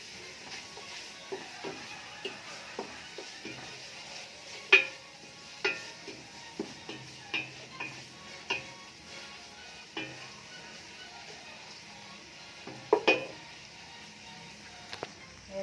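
Chicken being stirred in a cooking pot for soup, with a series of soft scraping and tapping strokes over a low, steady sizzle, recorded close and fairly quiet.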